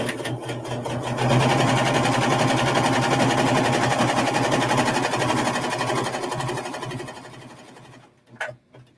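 A Pfaff serger runs steadily and loudly, its fast rhythmic stitching whir continuing for several seconds before it stops with a few faint clicks.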